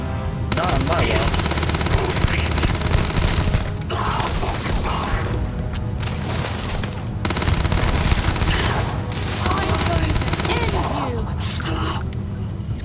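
Sustained automatic gunfire rattles from weapons in the video game Starfield, dense bursts broken by short pauses. Loud and close, it carries over talk in the background.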